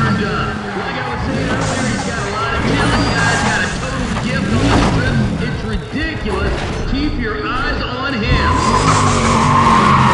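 A 1965 Pontiac GTO race car in the video game Need for Speed: ProStreet screeches its tires in repeated sliding squeals over a loud, steady engine roar, with a voice talking throughout.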